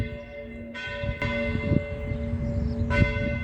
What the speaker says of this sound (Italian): Ed ecco, sentite gli ultimi rintocchi delle campane.